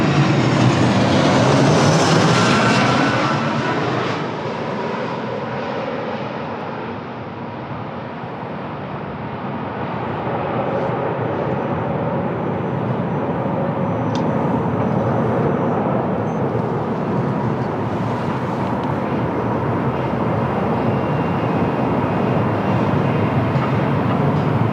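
Finnair airliner at Lisbon Airport on a windy day, a loud broadband jet roar that starts strong, eases briefly and then holds steady, heard from nearby with no voices.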